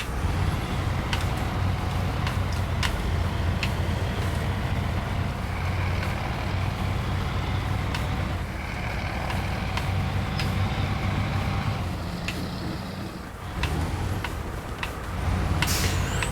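A truck engine in the video game SnowRunner drones steadily throughout, on a tundra road, with occasional hissing air-brake releases and clicks, and a brief dip in the engine note near the end.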